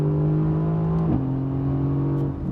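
Mercedes-AMG GT S engine accelerating from inside the car, a loud steady droning engine tone that shifts in pitch once as the gear changes, then carries on strongly before easing slightly at the end.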